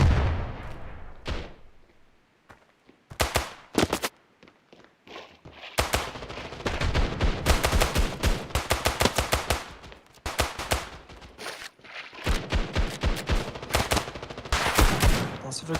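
Deagle pistol shots and other gunfire ring out in the mobile shooter Standoff 2 during a competitive match, in sharp irregular bursts and rapid clusters separated by brief quiet gaps.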